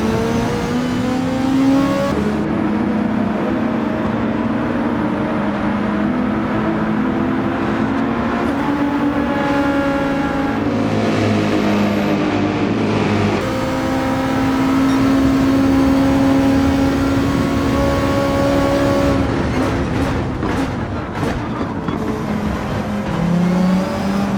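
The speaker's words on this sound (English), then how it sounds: "Looks like Mocha's killer in his GTR is already slowing Dornov down" Race cars lapping Road Atlanta in the Gran Turismo 7 racing game, including a GTR, with loud continuous engine roar, rising and falling revs through gear changes and cornering, steady throughout.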